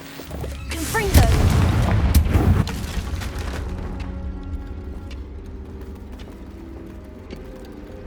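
Confringo blasting spell in the Hogwarts Legacy video game, a heavy booming explosion that builds quickly and rumbles for a couple of seconds before fading into low ambient game sound, loud and close.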